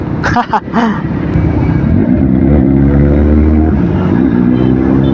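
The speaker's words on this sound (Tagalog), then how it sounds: "That is inline 4 mga katribo. Inline 4 engine." An inline-four motorcycle engine runs with a smooth, steady droning tone, close and loud, after a brief voice at the start.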